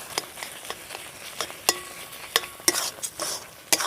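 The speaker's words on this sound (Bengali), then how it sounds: "তো বাকিটা সব কিছু একটু মিশিয়ে নেবো এবার ভালোভাবে।" A spoon stirs chana dal mohan bhog with dry fruits and khoya in a pan, making close, irregular scraping strokes over a faint sizzle, with no talking.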